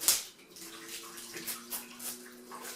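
Water spurts from three holes in a container during a hydrostatic pressure lab experiment, splashing and trickling steadily near and clear, with no voices.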